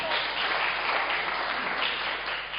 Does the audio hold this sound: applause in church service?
yes